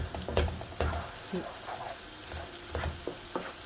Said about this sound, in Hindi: अच्छी तरह से मसाले के अंदर मिक्स कर देंगे